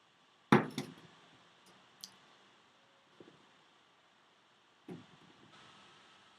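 A drinking glass is handled and set down with sharp clinks, one strong knock followed by a few lighter taps spread over several seconds in a quiet room.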